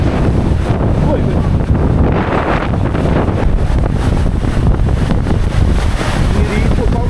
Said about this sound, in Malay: Ni ribut kau ni.